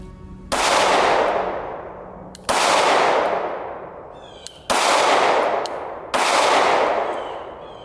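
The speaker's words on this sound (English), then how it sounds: "Okay, so that's another 10 shots and everything is in." Four loud, close gunshots fired at an outdoor range a couple of seconds apart, each followed by a long ringing reverberation that fades before the next shot.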